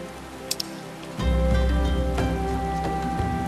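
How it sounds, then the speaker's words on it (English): Rain in the video game Final Fantasy XIV: A Realm Reborn begins as a steady, loud wash of rainfall after a couple of brief clicks, continuing evenly with no talking. "Ooh, it's raining."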